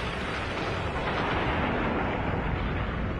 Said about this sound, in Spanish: La explosión es de tipo supernova.